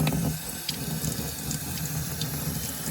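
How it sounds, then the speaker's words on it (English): Water runs steadily from a sink tap as a boiler washer is rinsed out beneath it, a constant close splashing hiss with faint clinks of handling, no talking. "Let's wash this out in the sink."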